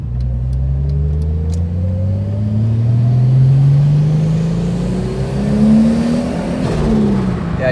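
A boosted old pickup-style engine, street-tuned, pulls hard through second gear with a loud, close, rising roar that steadies and climbs again, with faint clicks early on and no voices.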